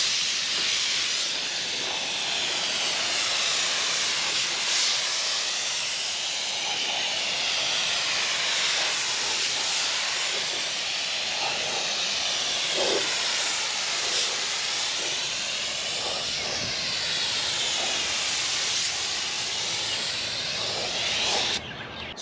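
A spray gun lays an extra coat of clear paint across the back of a Ford F100 truck, giving a steady, loud, close hiss that runs on without a break and cuts off at the end.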